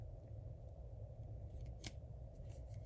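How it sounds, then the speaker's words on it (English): Backing paper is peeled off a sticker while making a stamped paper card, giving one short, crisp papery rip near the middle with a few faint rustles around it, quiet and close, with no talking. "I'm going to peel the backing off"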